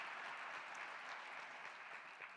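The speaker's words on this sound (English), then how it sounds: "Another round of applause for this amazing event." An audience at an arts presenters' conference applauds in a steady, dense wash of clapping that sounds fairly distant and soft, continuing throughout with no voices.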